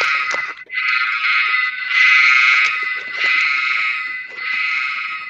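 A loud electronic alarm tone sounds from a handheld sound brick toy, repeating in wavering bursts with brief breaks between them.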